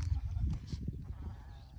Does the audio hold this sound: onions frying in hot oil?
no